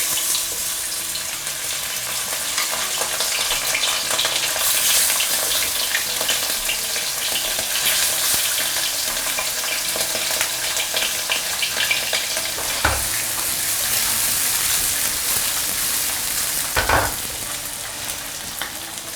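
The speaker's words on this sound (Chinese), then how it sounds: "锅里开小火，我们再来煎第二锅" Pork belly pan-frying in a wok over low heat as a second batch renders out its fat, giving a loud, steady, close sizzle and crackle throughout with a couple of brief sharper pops and no talking.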